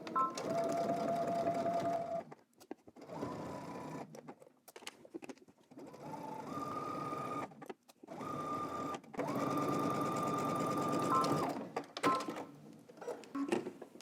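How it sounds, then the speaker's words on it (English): A sewing machine runs in several bursts while top stitching a pair of pants. Each steady mechanical whir lasts a few seconds, with short pauses between runs, and the machine is close and moderately quiet. "let's head to the sewing machine and we're gonna top stitch"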